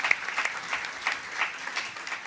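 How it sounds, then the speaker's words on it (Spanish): Steady applause fills the room at a feminist political congress in Santa Fe province, with dense clapping at a moderate, even level and no voices rising above it. "así que un aplauso grande"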